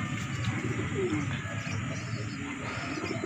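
Racing pigeons coo softly at their loft during a summer race, a low murmuring coo under steady outdoor background noise with faint bird calls throughout.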